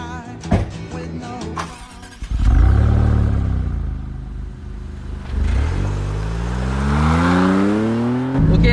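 A 630-horsepower Maserati MC20 on the Modena racing circuit revs hard. The loud engine howl rises through the gears with brief drops at each shift, heard close and alone after a few clicks at the start.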